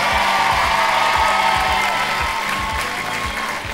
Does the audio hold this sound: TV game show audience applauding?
yes